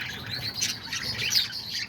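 Pet lovebirds and parakeets in an outdoor aviary with nests chirp and tweet continuously, a busy layered chatter of several small parrots at moderate volume with no talking.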